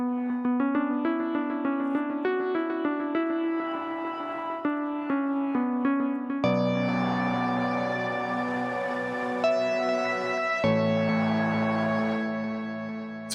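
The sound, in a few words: Mosaic Keys from Heaviosity keyboard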